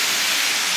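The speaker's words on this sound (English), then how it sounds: "I'm pretty sure you can hear the cars going by." Cars pass on a wet road outside in nasty weather, a continuous loud broadband hiss of tyre spray with no distinct engines or voices.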